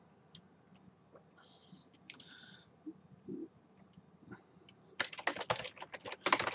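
Quiet keystrokes and scattered clicks on a computer keyboard while order details are entered, sparse at first, then building into dense, louder bursts of typing near the end.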